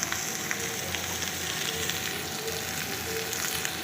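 Minced meat fries with onions in oil, giving a steady, close sizzle throughout with no voices.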